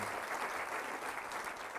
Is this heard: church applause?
yes